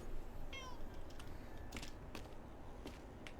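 A cat meows once, a short rising-falling call near the start, heard over a steady low background hum with a few faint clicks and taps afterward.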